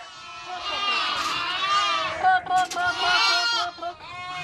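Sheep and goats bleat repeatedly at a farm pen near Siberia's Altai Mountains, several overlapping close, wavering calls filling the clip with brief gaps between them.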